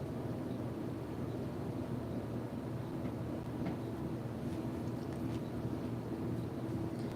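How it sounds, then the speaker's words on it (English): A steady, distant airplane drone rumbles overhead, broad and even throughout, with faint wind noise and no talking. "There's a plane that wants to go overhead."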